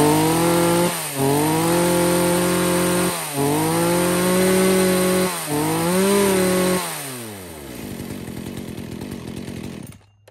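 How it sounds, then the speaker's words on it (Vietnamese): A Makita 35cc chainsaw runs alone, its engine surging loudly in several revving bursts with brief dips, then winding down to a rough idle before cutting off. "kế đến là một con A7, máy cưa xích Makita, con này thì công suất 35cc cho các bác về sử dụng thì quá là ok rồi."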